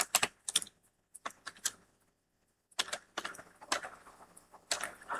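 Keys on a computer keyboard are typed in short, close bursts as an image file name is entered, crisp clicks clustered in groups separated by a brief silent pause, with no voice over them.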